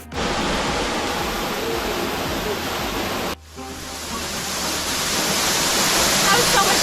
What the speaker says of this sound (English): Do you think you could resist going under that waterfall?